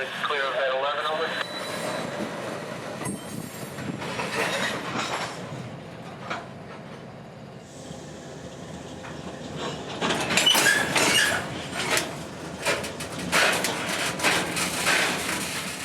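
Railroad cars being moved along a spur track by a freight train, a continuous rolling rumble with clickety-clack and metallic creaks that grows louder and busier toward the end.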